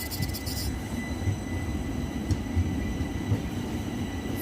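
A train at a railway station gives a continuous low rumble and rattle, moderately loud and steady, with a faint high hiss above it.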